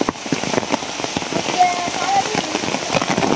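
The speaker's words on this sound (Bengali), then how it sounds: "বৃষ্টি আরম্ভ হয়েছে" Steady rain falls and patters on a surface close by, a dense continuous hiss with scattered louder drops, beside a veranda where a cooking fire of thin firewood is being prepared.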